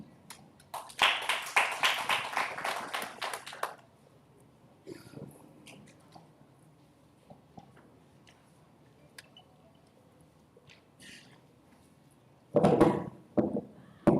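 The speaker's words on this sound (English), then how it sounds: "Give him a clap." Applause from an audience at a university matriculation and orientation event, a dense burst of clapping lasting a few seconds, then quiet room sound before another short burst of clapping near the end.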